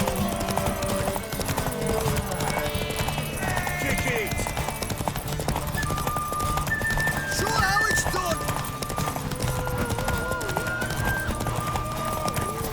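Steady hoof clip-clops from a horse keep a trotting rhythm, mixed with background music and scattered voices in a busy scene in The Witcher 3: Wild Hunt.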